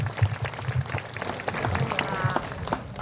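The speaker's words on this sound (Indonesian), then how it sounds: "Tepuk tangan untuk kita semua." A gathering of village representatives from across West Java in Purwakarta applauds: a broad, moderately loud patter of many hands clapping, steady throughout, with a faint voice underneath.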